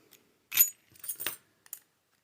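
A bunch of keys jangles in a few short metallic bursts, the loudest near the start followed by two smaller clusters and a brief final clink, close and alone with no talk.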